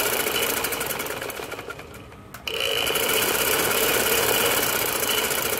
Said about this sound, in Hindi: शुरू और आखिर में डबल सिलाई लगा लेते हैं।